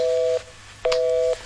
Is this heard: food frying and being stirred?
no